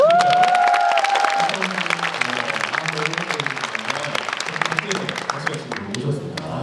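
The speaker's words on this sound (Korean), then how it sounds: "여러분 큰 박수 한번" Applause and some cheering from a concert audience in an indoor hall, steady and full throughout, with a short whistle or voice tone near the start and talk mixed in underneath.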